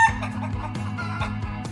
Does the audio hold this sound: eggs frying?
no